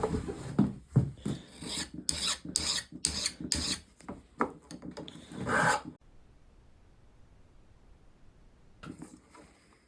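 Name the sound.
Stanley 151 spokeshave removing paint from wood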